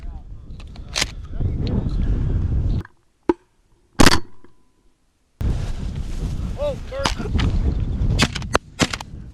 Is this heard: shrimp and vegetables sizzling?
no